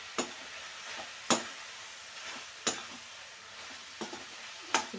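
Spices with red chilli powder, turmeric and salt stirred into palak mushroom curry in a pan, a soft low sizzle broken by about five sharp scraping strokes of the spoon, close and quiet, no talking.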